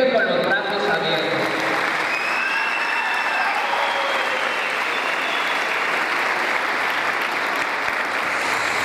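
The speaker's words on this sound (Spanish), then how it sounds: "todos nosotros de Centroamérica le vamos a dar un aplauso a Patzún" A large crowd applauds steadily and loudly, a dense wash of clapping that holds without pause throughout.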